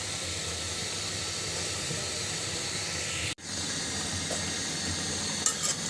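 Mixed vegetables sizzle steadily in a hot pan for a Bengali dish, a constant close hiss broken once by a brief drop, with a small clink near the end.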